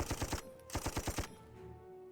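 Rapid bursts of gunfire from an attack in the strategy game Panzer Corps on a Panzer 1A, two quick volleys of sharp repeated shots followed by a fading tail, with no talking.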